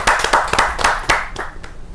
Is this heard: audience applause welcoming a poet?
yes